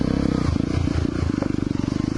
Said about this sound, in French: voir un peu le bruit de la moto